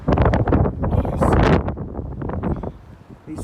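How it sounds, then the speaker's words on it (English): Strong gusts of wind buffet the microphone outdoors on a walk near a quarry, loud, close and rumbling in uneven bursts before easing toward the end. "Oh my gosh, it's so windy out there."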